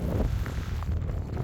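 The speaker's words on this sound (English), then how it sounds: "A little windy through this tunnel." Wind gusts through a roadside tunnel near Amboy Crater on Route 66, a low, rumbling buffet that rolls continuously against the microphone, close and fairly loud with no talking.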